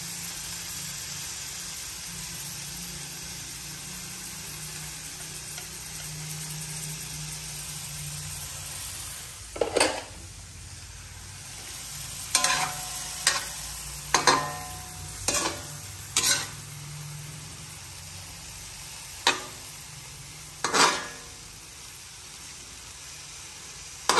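An egg frying in a pan on a home stove, with a steady close sizzle and hiss throughout, later broken by a series of sharp scraping and stirring clicks from a utensil, and no talking.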